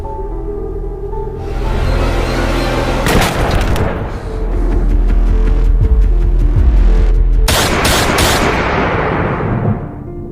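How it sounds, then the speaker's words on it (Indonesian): Distant gunfire in a film scene: a couple of heavy, booming shots ring out, with a deep rumble and a dense, noisy soundtrack between them. "tiba-tiba ada tembakan dari kejauhan"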